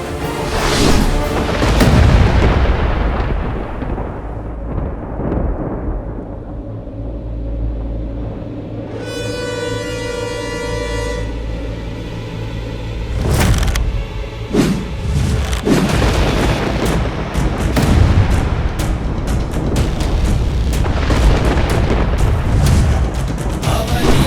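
A divine weapon fired in a mythological battle scene, with heavy rumbling explosion booms and bursts rolling continuously, loud and dense, with a brief sustained tonal whoosh in the middle and dramatic impacts throughout.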